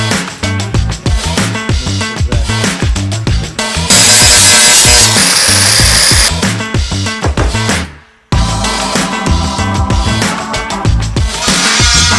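Sections of a Morris Marina car body are cut out with a power tool, giving a loud, continuous harsh sawing and grinding that pauses briefly, then resumes at full intensity.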